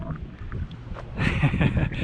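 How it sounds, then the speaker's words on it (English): Wind buffets an outdoor microphone beside a pickup truck and trailer in a low, uneven rumble that grows louder and gustier partway through. "It's really windy today, so I apologize for that"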